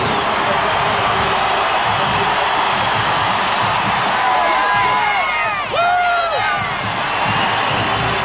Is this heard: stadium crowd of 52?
yes